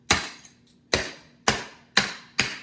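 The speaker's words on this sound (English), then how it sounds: "I took a couple of candy canes, unwrapped them, put them in a bag, and I'm going to take my hammer." Unwrapped candy canes in a bag are struck with a hammer, five sharp, loud cracking blows at a steady, roughly half-second rhythm, each with a crisp shattering snap, plus a lighter tap between the first two.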